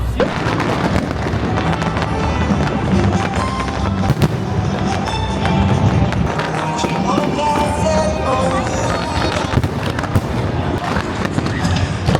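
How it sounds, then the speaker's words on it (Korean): A huge fireworks display celebrating a Disney cruise ship's maiden voyage, with dense, continuous bursts and crackling booms at close range for the whole stretch, over a murmuring crowd. "거대한 불꽃놀이를 3일간만 개최를 한다고 하거든요"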